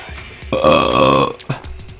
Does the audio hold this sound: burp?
yes